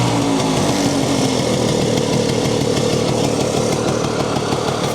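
A 1968 Vespa 150 Sprint scooter engine runs loud and close after a kick start, a steady raspy two-stroke drone with a dense rattling buzz and no talk.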